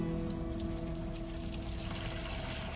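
Water is poured outdoors for a child to play in, a faint, continuous trickling over a low steady hum.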